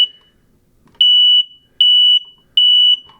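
A smoke alarm emits loud, piercing high-pitched beeps, three in a row at an even pace, with near silence between them.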